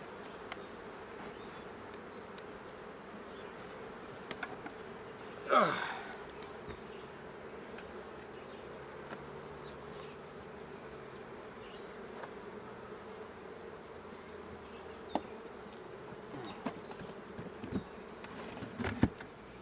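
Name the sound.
honeybee colony buzzing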